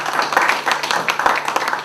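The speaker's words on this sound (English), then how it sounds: "So on my right, Jill, Adrian, Sarah, Connor, please give them a round of applause" A crowd applauds at a poetry event, a dense patter of many hands clapping at once, steady and fairly close for a couple of seconds.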